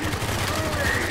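Rapid video game gunfire rattles in a quick burst of repeated shots, fairly close and steady across the short moment.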